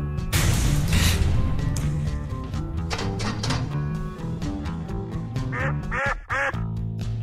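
A comic duck-quack sound effect plays over busy background music, with several quick nasal quacks standing out near the end.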